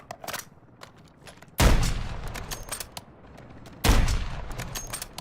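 Gunfire in a zombie video game: scattered small pops, then two heavy shots each followed by a rumbling tail a couple of seconds apart, fairly close and with no talking.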